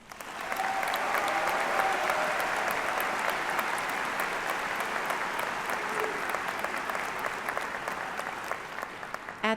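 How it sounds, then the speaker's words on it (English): Crowd applause at a high school commencement ceremony, a sustained, even roar of many people clapping that begins after a brief quiet moment and carries on for about nine seconds at moderate distance. "Please join us in acknowledging their achievement with a round of applause."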